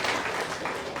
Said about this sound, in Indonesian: Beri tepuk tangan buat Tuhan saudara.